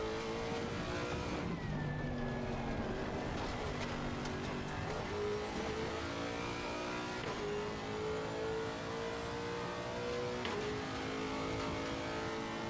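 An older Lamborghini race car in Assetto Corsa Competizione circles the Nordschleife with no traction control or ABS, its engine loudly revving and shifting up and down in a continuous high-pitched howl.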